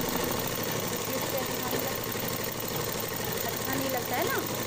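A sewing machine runs continuously while stitching a kurti, a steady close mechanical whir and rattle with no breaks, while someone talks over it.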